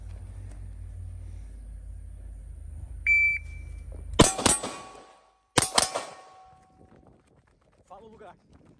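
A shot timer beeps, then a Beretta APX 9mm pistol fires loud close shots at a range, a quick double followed by another pair of sharp cracks with ringing decay, over low background rumble.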